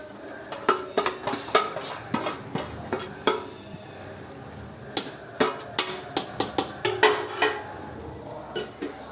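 Undhiyu vegetables, including stuffed brinjals, being stirred in a metal pot, with a spoon repeatedly scraping and clanking against the sides in uneven bursts, close and fairly loud, with no talking.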